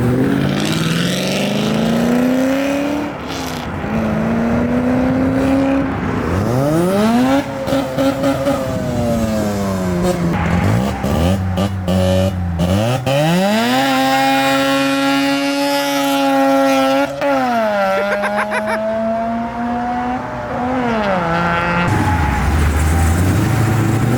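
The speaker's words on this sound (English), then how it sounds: "Listen to this damn car" A big supercharged C3 Corvette leaves a car meet with a loud, sustained engine roar, revving up and down repeatedly as it pulls away close by, the blower whine rising and falling with each throttle stab.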